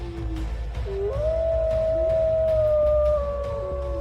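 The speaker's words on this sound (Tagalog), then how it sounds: "nakarinig kami ng malalakas na alulong ng aso" Dogs howling loudly, long rising and sliding wails overlapping one another over a low background rumble, sustained for several seconds.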